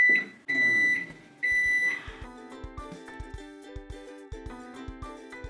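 A few loud electronic beeps from a combination microwave, air fryer and baking oven, followed by a run of softer clicks and tones as its controls are pressed.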